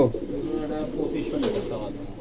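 A pair of young red Lahore pigeons coo softly in a steady, close murmur, with a voice talking over them throughout.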